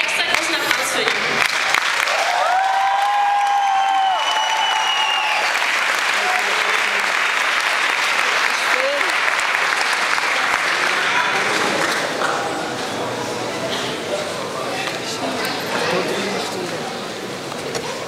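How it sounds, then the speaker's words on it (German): Sustained, dense applause from an audience at a school graduation ball after a singer's performance, a steady roar of many hands with faint voices and a whistle in the first seconds, easing slightly toward the end. "Also einen extra großen Applaus für ihn."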